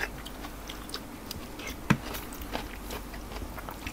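Corn being eaten, with one crisp bite standing out near the middle of a quiet stretch, surrounded by faint, soft chewing and mouth clicks.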